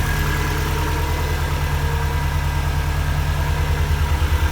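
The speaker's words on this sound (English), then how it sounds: "this Janome exhaust, obviously it's revving up, it's obviously idling at that height" A Subaru WRX STI fitted with a Janome exhaust idles steadily at a raised idle, a loud, close, continuous low engine drone with a throbbing exhaust pulse and no talk.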